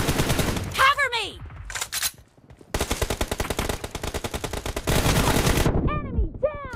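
Gunfire in the mobile battle-royale game PUBG Mobile: rapid automatic bursts crackle in several runs separated by short gaps, with brief voice sounds near the start and end.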